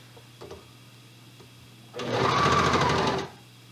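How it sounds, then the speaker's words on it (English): A serger sews a sleeve cuff together in a single steady, whirring run of about a second and a half, close and clear, with a few faint handling clicks before it starts. "I'm going to position my serger presser foot on the inside of the sleeve and then just sew it together"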